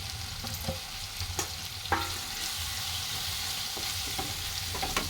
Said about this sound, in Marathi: मसाला चांगला भाजला आता आपण याच्यात सगळे मसाले ॲड करूया धना जिरा पावडर हळद मसाला गरम मसाला हिंग आणि मीठ